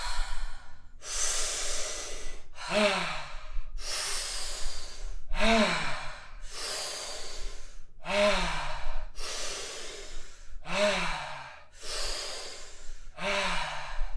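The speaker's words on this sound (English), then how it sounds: "Let's go deep inhales and exhales." Deep breaths follow a steady rhythm, with about nine loud, breathy inhales and exhales heard close up. Some exhales end in a soft voiced sigh.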